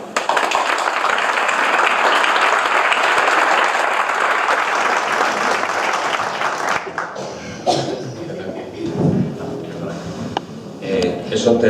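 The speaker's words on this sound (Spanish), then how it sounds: "un fuerte aplauso para Pedro." An audience applauds the speaker after a physics lecture, a loud full round of clapping for about seven seconds that then thins into scattered claps, murmurs and a few voices.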